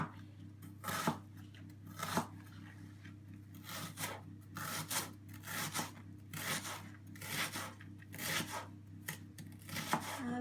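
Large white onions are chopped with a knife in a kitchen, giving a series of soft, close, irregular cuts and scraping strokes over a low steady background hum.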